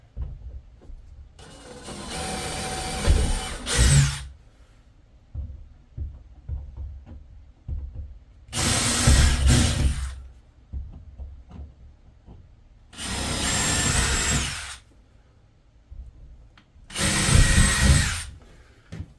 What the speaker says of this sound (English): All right, so we're going to drill in each corner.